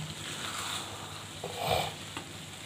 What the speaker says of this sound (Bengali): এবার দিয়ে দেবো, এবার নেড়ে দিচ্ছি।